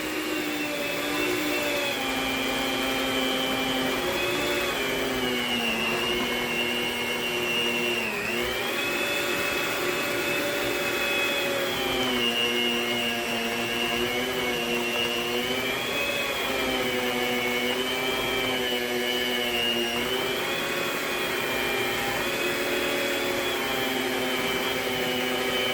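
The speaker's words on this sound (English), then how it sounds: "And beat the cream cheese until it's fluffy." An electric hand mixer beats cream cheese for a cheesecake pie filling, giving a steady, loud motor whine with a shifting pitch that runs continuously and alone for the whole stretch.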